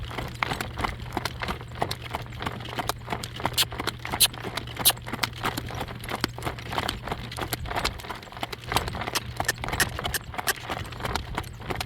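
Horse hooves clip-clop steadily and close on a drive on a mild afternoon, with Greentree Lady's Man pulling at a walk; the rapid, even footfalls repeat throughout over a low constant hum, with no talk.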